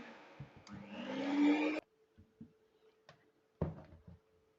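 A kitchen mixer blends mango puree with milk for ice cream, a loud steady whir lasting under two seconds that cuts off abruptly, followed by quiet clicks and a few thuds.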